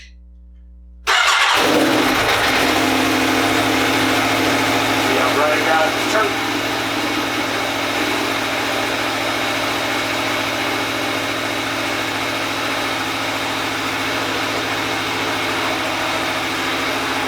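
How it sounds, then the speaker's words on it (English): A 2018 Aprilia Tuono Factory starts suddenly after a quiet moment, then settles into a loud, steady idle close by that continues unbroken through the rest of the clip. "Let's see, turn on the bike."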